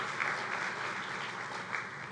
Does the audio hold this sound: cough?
no